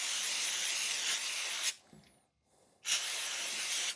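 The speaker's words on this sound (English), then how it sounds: "you got your brake or parts cleaner, your Zippo lighter fluid, whatever you're using. All right, give it a good spray down." Brake or parts cleaner is sprayed onto an Accuracy International competition rifle trigger in two long, close, loud hissing bursts separated by a brief pause.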